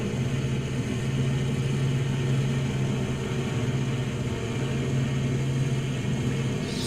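Steady droning engine of a 1941 bomber aircraft in a flight simulator game, a constant low rumble holding even throughout with no voices.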